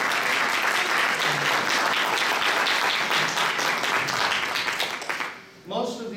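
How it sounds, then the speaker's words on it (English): Audience applause, a dense sustained roar of many hands clapping indoors that fades after about five seconds, followed by a brief voice. "Let's give her a round of applause."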